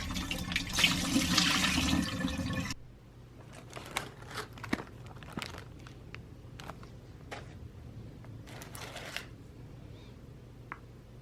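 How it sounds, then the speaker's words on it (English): Running water rinses freshly picked garden strawberries, a steady broadband splash for about three seconds, then stops, leaving scattered light taps, clicks and handling noises. "some of them were like in the dirt, so I still rinse them off"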